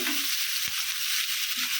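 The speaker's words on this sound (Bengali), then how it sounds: "এখন পেঁয়াজ দিয়ে দিচ্ছি" Sliced onions frying in oil for a koi fish curry, a dense close sizzle with a faint knock partway through.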